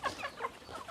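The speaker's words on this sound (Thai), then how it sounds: "บรรยากาศการให้อาหารน้องหมูน้องไก่นะครับ" Farm chickens clucking in short, quick calls during feeding time on a Thai farm where pigs are also fed, moderately close but fairly quiet against a soft background.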